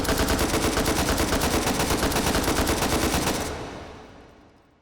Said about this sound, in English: these rifles all have a fire rate of about 600 shots per minute in full auto